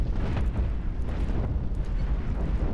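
Spaceship broadside fire and explosions in Cosmoteer, a loud continuous rumble of booming blasts with scattered sharper bursts throughout.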